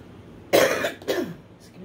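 Two sharp, close coughs in quick succession, the first louder, against a quiet background.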